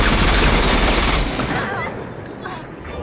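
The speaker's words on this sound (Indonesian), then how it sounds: "Mereka mati ditembak habis-habisan." Film gunfire in a dense, loud burst of rapid shots at the start that thins and fades toward the end, ending in quieter scattered noise.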